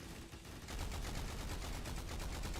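Rapid video-game gunfire with heavy recoil hammers out as a dense, loud, continuous burst of shots that builds after a brief lull, with no talking over it.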